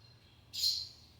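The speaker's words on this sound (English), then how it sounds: "mama bird's wanting to come up and see him now." A mother bird and her feathered nestlings at a nest above a door give a single short, high chirp close by, with quiet surroundings before and after.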